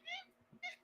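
A pet cat gives two short meows, the first longer and the second starting after a brief pause, close and fairly clear in a quiet room.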